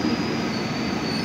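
A KRL Commuterline Jabodetabek electric commuter train's wheels squeal steadily at a station platform near Manggarai, a loud continuous metallic screech with a high whistling tone over rumbling rail noise, with no voices.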